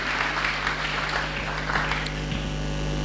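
A church congregation applauding to acclaim the Lord, a dense continuous wash of clapping over a low mains hum, steady and fairly loud from start to finish.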